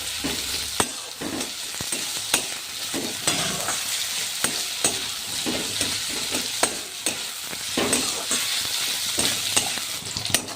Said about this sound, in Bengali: আদা কুচি। এটাকে ভালো করে ভেজে নিতে হবে।